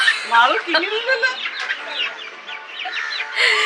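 Chickens, including black chickens, cluck and squawk busily at close range, with agitated calls overlapping throughout.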